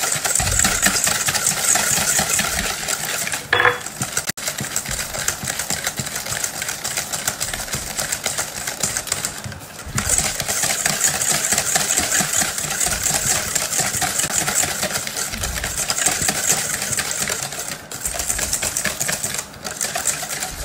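An electric mixer beats sugar into madeleine cake batter until it dissolves, giving a continuous motorized whir with a few brief dips in pitch and level, running alone without talk.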